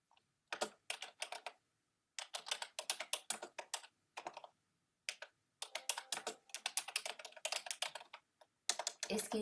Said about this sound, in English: I'm using like a keyboard that I don't use all the time.